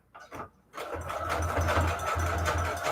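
A sewing machine runs a wide, long zigzag stitch to attach trim onto a handmade Valentine's junk journal. After a few soft handling taps, it settles into a steady, close mechanical whir that pulses rhythmically until the end.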